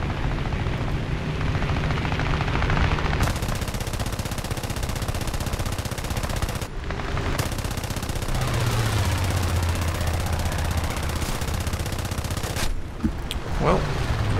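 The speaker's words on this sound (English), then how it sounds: "Going to be the fifth plane shooting at this guy on our team." Rapid bursts of aircraft machine-gun fire in the air-combat video game War Thunder rattle over a constant propeller-engine drone, with short pauses between long volleys and a loud, close sound throughout.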